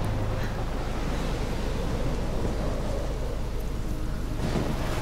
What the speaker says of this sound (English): Sure is windy up here.